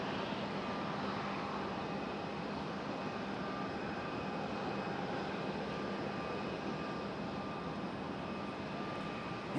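An Embraer E175 jet airliner at Raleigh-Durham airport gives off a steady, distant engine roar that holds constant throughout, with no voices.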